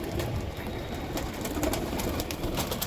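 A pair of Pakistani racing pigeons coos softly and continuously at close range, their low murmuring calls blending with steady background noise and no voices present.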